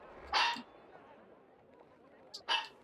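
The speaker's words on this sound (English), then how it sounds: "My dog is barking." A pet dog named Kiba gives two sharp barks indoors, spaced about two seconds apart, with a quiet room tone in between.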